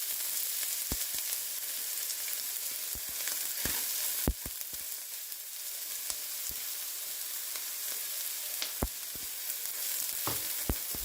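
Onion sizzling in a hot pan as stuffing for bell peppers, a steady crackling fry with scattered sharp pops and clicks running the whole time, no talk.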